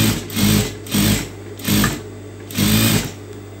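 A sewing machine stitches a front strip of fabric in four short, loud bursts of rapid mechanical whirring, each about half a second long, with brief pauses between them.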